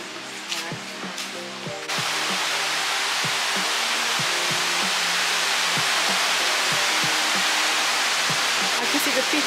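A waterfall on a river gives off a loud, steady broadband roar that begins abruptly about two seconds in and holds without letup, following a few brief voices and footsteps at the start.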